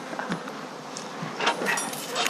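Honeybees buzz faintly around the hive in a continuous soft insect drone, swelling slightly at moments.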